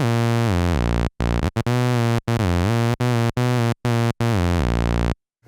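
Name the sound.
synthesizer playing a single timbre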